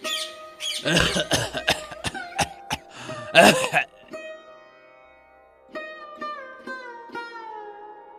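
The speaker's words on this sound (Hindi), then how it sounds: "बाबा, आपको फिर से खांसी हो रही है।" A man coughs in a harsh, rapid fit of several hacking bursts, close up, followed by softer squeaky sounds and quiet bird-like chirps.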